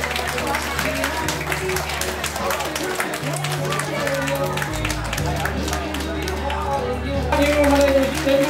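An audience claps continuously to welcome guests into an evening hall celebration, with sustained applause under background music and crowd chatter.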